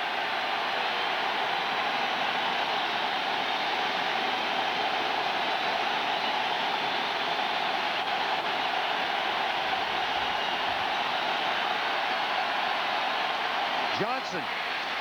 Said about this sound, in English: 3rd and 2, and the crowd noise starts to build.